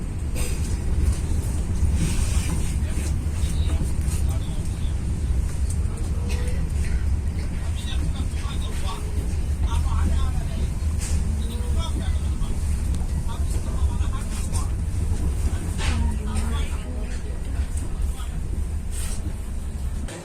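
The Logawa passenger train pulls out of Klakah station, a continuous low rumble and rolling rattle from inside the carriage, steady and fairly loud throughout, with occasional faint background voices.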